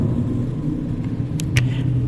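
A motorcycle passes along a road, a steady low engine rumble that holds throughout with a few short sharp noises near the end.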